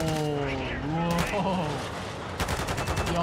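Rapid bursts of gunfire in a Call of Duty: Modern Warfare 2 gunfight, with dense automatic fire cutting in and out, louder volleys near the end, mixed with game voices talking underneath.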